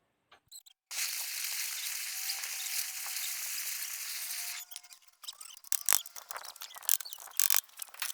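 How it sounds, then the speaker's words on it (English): A gas torch flame roars steadily at close range against the joints of an old bike frame, then stops and gives way to scattered clicks and metallic handling sounds. "today we're going to add fire, put a bit of heat in it and see if we can't loosen the joints up a bit"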